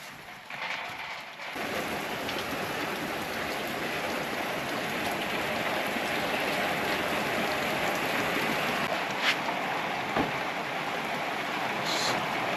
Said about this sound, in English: Torrential downpour, not much you can do about that.